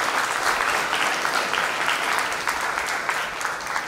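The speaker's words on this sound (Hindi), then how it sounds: "एक बार हम तालियों की बौछार करेंगे।" Audience applause for the music team at a theatre performance of a Sanskrit play, a full, even burst of clapping from a large crowd that continues without a break.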